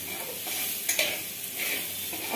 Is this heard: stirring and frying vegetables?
yes